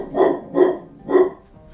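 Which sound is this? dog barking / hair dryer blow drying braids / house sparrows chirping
dog barking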